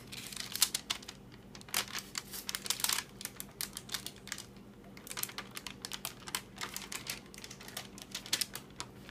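Crinkly, papery peeling of a Hatsune Miku cake design transfer, heard up close as a long run of small irregular crackles and tearing rustles with brief pauses, fairly quiet and with no voices.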